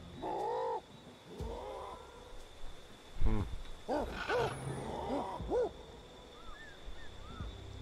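Bird calls in the jungle of the video game Ancestors: The Humankind Odyssey, held to be an eagle: a series of harsh, croaking caws and hooting cries, some loud and near, others faint, spaced irregularly over quiet ambience.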